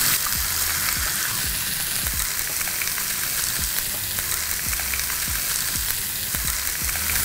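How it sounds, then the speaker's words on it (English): Onions, garlic and carrots frying in a hot pan, a steady loud sizzle with crackling pops and occasional clinks, close and continuous, with no talking. "I'm going to add in some onions, some garlic,"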